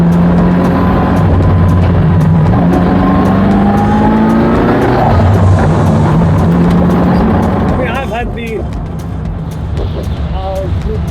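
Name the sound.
Ferrari F40 engine while driving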